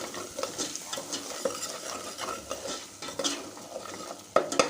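A spoon stirs salt and coriander powder into chicken biryani masala in a pot, scraping and clinking repeatedly over a soft sizzle, with a sharper metallic knock near the end.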